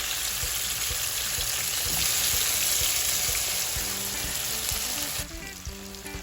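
Spam added to a hot pan for a Jamaican breakfast sizzles and fries steadily, a loud dense crackle with a few soft clinks of stirring near the end.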